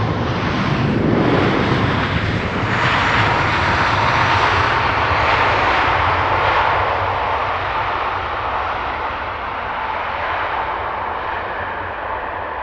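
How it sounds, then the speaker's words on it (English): A LOT Polish Airlines airliner in a special livery touches down at Heathrow Airport. Its loud jet roar stays steady and close, then gradually eases as the plane rolls out. "Locked Polish Airlines touching down in a very funky special livery."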